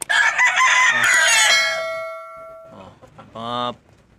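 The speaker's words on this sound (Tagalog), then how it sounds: "Mga manok nila dito." A rooster crows loudly nearby in a long drawn-out call, followed by a couple of shorter squawking clucks.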